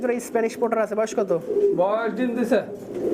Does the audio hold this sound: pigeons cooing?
yes